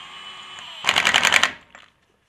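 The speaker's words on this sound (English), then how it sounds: "Gonna use the Milwaukee gun on the lowest setting." A Milwaukee impact gun on its lowest setting hammers an axle nut tight on a Jeep Wrangler in one loud, rapid rattling burst of about half a second, followed by a faint brief tail and then quiet.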